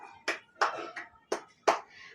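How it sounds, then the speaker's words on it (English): A class of students gives five distinct claps, evenly spaced and fairly quiet, with no talking over them. "Class, give yourselves 5 claps"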